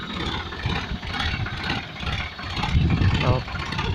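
A tractor engine runs at a steady idle while it raises a plough, a mid-to-low mechanical drone heard close by with voices talking over it.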